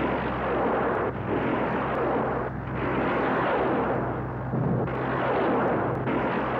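Sustained gunfire from a low-flying Mohawk aircraft reconnoitering by fire over heavily infiltrated ground, a continuous loud rattling roar in long bursts with brief dips between them and no talk.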